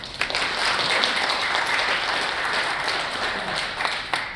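Warm, steady applause from a seated audience opening a health talk show on sleep apnea, many overlapping claps at an even level with a few sharper claps standing out, no speech over it.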